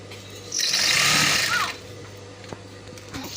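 A sewing machine stitches iro and buba fabric in one loud whirring burst of about a second, then stops, leaving faint handling noises and a low hum.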